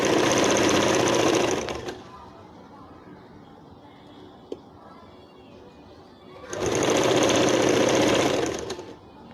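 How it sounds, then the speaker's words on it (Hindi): An electric sewing machine stitches a salwar in two loud, close bursts of rapid whirring clatter, separated by a few seconds of quieter handling. "देखो ये भी सिल के तैयार हो गया नीचे का हिस्सा।"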